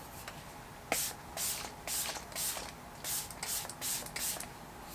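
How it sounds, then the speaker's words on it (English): A face setting spray mist hisses in a series of short bursts onto a face, about eight quick spritzes close by with brief pauses between them. "I am going to set my face with this Item Beauty One Hit Prime Set Refresh Dewy Finish Spray Mist"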